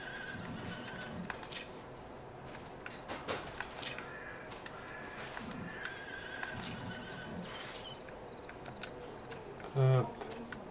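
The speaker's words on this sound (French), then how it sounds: "Ça, c'est quoi? Les chevaux." Horses in a video game give a couple of neighs and whinnies over a busy game background, with one louder thump near the end.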